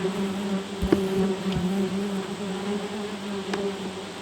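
Bald-faced hornets buzz steadily around their nest at close range, a continuous droning hum with a few louder passes as individual insects fly near, and no voices.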